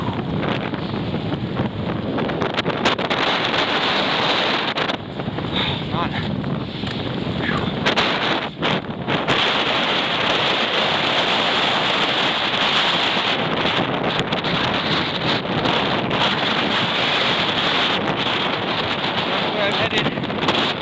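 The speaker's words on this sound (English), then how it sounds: "That wind, horrendous. It's just driving that rain sideways, man." Strong wind drives rain sideways against a tent at a winter camping site, roaring and buffeting the microphone in a dense, continuous wash with brief gusty dips, loud throughout.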